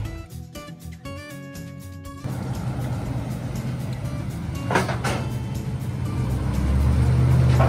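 Car being driven up onto the ramp of a car transporter and tucked underneath a Mercedes, giving a steady engine drone that grows louder toward the end, with a few clunks and rattles from the ramp.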